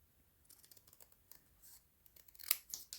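Quiet snipping of scissors through paper, a run of small crisp cuts ending in a few louder snips near the end.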